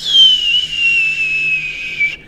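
A person imitates a calling whistle with one long, loud, sustained tone that wavers slightly and then stops abruptly.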